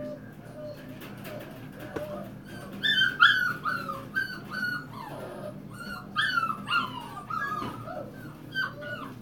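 Several kennel dogs whimper and yip in repeated high, wavering bursts, with occasional barks, fairly close over a steady low hum of the kennel; no one speaks.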